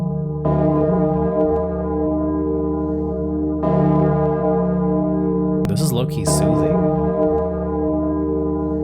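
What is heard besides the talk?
ringing of a 15,684 kg bell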